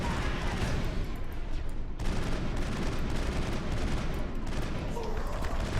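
Sustained gunfire in the Mass Effect video game, a dense continuous barrage of rapid shots with a brief gap near the two-second mark, loud and steady throughout.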